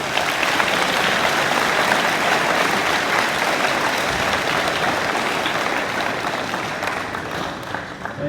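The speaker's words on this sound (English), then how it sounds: "Let's give them a round of applause." Sustained, dense applause from an audience at a school awards day honouring student award recipients, steady and loud throughout before tapering slightly near the end.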